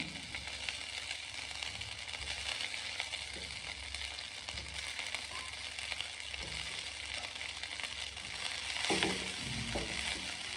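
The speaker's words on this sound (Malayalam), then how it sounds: "ഇനി അതിലേക്ക് റൈസ് ഇട്ട് കൊടുക്കാം" Cooked rice stirred into puliyogare mixture in a hot pan, a soft steady sizzle with low scraping and shuffling of stirring throughout and a slightly louder scrape near the end, no talking.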